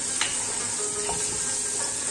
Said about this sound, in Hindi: अब हम इसके अंदर डालेंगे अदरक लहसुन का पेस्ट, इसको हल्का सा फ्राई होने देंगे।